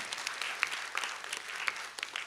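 A lecture audience gives a round of applause at a public lecture, brief, fairly faint clapping with a few sharper individual claps standing out.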